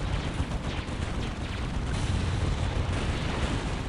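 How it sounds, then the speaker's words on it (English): A Wraith Guard squad's vibra cannon fires in a Dawn of War battle, a dense, sustained rumbling roar with crackling, thumping bursts layered over loud battlefield noise, steady throughout with no voices. "Going to see a Wraith Guard squad coming in with a Vibra cannon."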